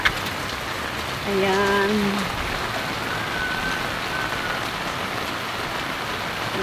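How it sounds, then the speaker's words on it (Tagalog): Heavy rain pours down steadily in a broad, loud hiss during bad weather, with a brief tonal horn-like sound early and someone speaking a single word over it. "lakas ng ulan dito sa amin."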